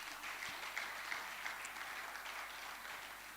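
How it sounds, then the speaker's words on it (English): An audience at the Nigeria Agriculture Awards applauds in a steady, moderately loud burst of clapping that continues evenly throughout. "Can we have a round of applause, please?"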